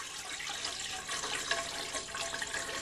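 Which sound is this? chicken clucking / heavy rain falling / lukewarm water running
lukewarm water running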